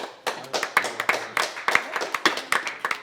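A small group at a restaurant table claps for a first course of seared scallops with foie gras, giving a brief, irregular patter of close handclaps with some voices mixed in.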